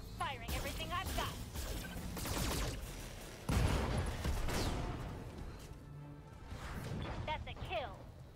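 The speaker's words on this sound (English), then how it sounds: "Firing everything I've got." Mech weapons firing in the Battletech video game, a dense volley of blasts, crashes and impacts with a heavy hit midway, heard under a voice talking throughout.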